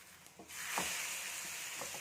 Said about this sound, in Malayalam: ഇനി ആ സൈഡോട് നന്നായിട്ടൊന്ന് ഫ്രൈ ആവട്ടെ